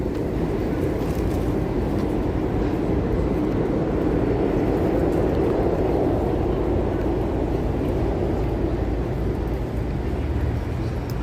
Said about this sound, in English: Here's the subway down there below us.